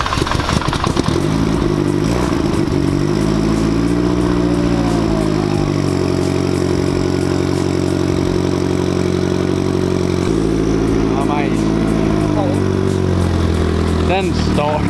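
Small ethanol-fuelled model aircraft engine starting and running, loud and close, with a steady buzzing drone that holds throughout and shifts pitch slightly with throttle changes, set outdoors in cold weather.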